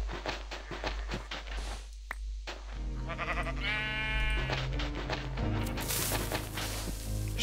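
Minecraft sheep bleat in the Epiccraft modpack, a wavering game bleat rising over background game music and effects, fairly loud with no talk.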